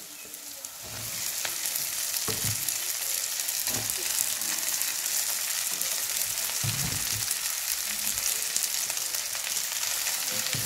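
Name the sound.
pasta and eggs frying in a pan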